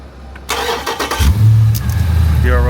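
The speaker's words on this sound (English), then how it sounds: "can you start the car real quick?" A Dodge Scat Pack car engine cranks and catches, then settles into a loud, steady low rumble close by, with brief talk in the background.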